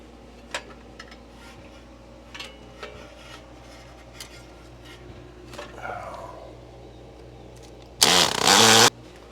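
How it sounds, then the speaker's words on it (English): After quiet taps and clatter, a power drill drilling a hole in a wall whines loudly close by for about a second, then stops. "Hole drilled."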